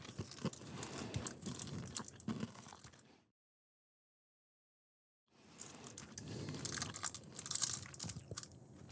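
Someone bites into an 80-year-old WWII lifeboat ration biscuit, which is hard at first, with loud, close crunching and chewing that stops for a silent gap before the crunching resumes.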